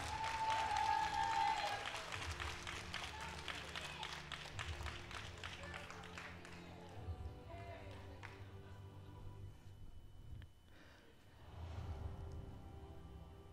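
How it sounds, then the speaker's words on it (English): Applause from a crowd at a company promotion ceremony in Atlanta, loud at first, then thinning into scattered clapping with some background chatter before a brief swell near the end. "give a big round of applause"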